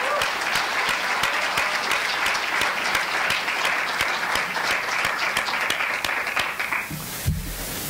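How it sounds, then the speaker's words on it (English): A university audience at a three-minute thesis competition applauds steadily, dense clapping filling the hall for several seconds before tapering off near the end. "if we could give a round of applause to our judges for all their work here."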